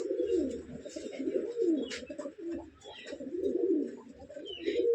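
Turkish tumbler pigeons cooing steadily, deep throaty coos repeating in close, continuous rolling phrases with a few faint chirps from other birds in the background.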